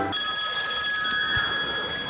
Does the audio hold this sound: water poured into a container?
no